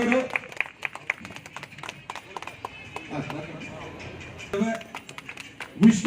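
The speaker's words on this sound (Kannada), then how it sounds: "ಎಲ್ಲರೂ ಜೋರಾಗಿ ಚಪ್ಪಾಳೆ ತಟ್ಟಬೇಕು ಅಲ್ಲಿದ್ದವರು" An audience at a felicitation ceremony claps in scattered, uneven bursts, moderately distant, while a voice talks over it.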